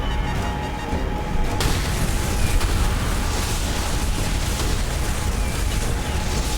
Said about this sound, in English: There goes the explosion.